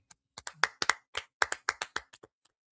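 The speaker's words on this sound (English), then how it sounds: "Let's go ahead and clap it up" A short burst of hand claps at a scripture class, about a dozen sharp, close claps in a quick uneven rhythm that tapers off at the end.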